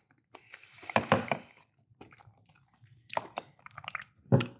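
Someone chews large mouthfuls of cereal up close, with bursts of crunchy, wet mastication in clusters separated by brief quiet gaps; no one speaks.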